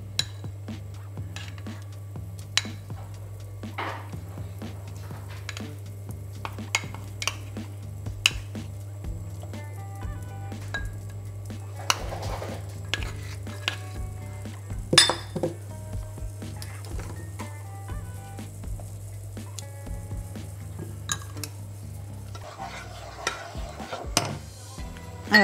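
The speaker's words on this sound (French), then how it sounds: "je commence par faire chauffer mon eau et mon lait. Alors, je vais y faire fondre le beurre" Water and milk heat in a pan with butter melting in, stirred by a utensil that taps and scrapes the pan now and then over a faint low hum, quiet and close with no voices.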